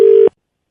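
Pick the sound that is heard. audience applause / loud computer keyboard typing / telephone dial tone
telephone dial tone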